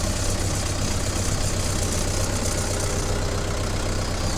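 A Mahindra 575 Tech Plus tractor engine runs steadily on farmland, a loud, continuous low diesel rumble with a constant hum and rough mechanical texture, no voices over it.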